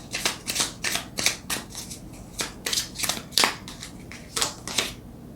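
A tarot deck is shuffled in quick, crisp riffling bursts, about a dozen short flutters in an uneven rhythm. The cards are close and clear, with no talking over them.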